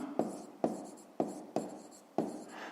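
A pen writes down a math answer on paper in short, quiet scratching strokes, about six light taps and scribbles at a steady pace, close and alone.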